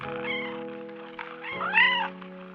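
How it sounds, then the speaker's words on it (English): A cat meows insistently, a drawn-out wail followed by a sharper rising cry, close and clear over a faint steady hum. "I can hear Boxes' meows grow frantic"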